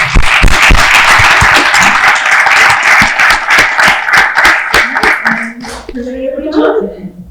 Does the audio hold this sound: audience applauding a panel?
yes